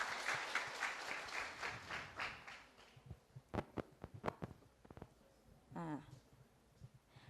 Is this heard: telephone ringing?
no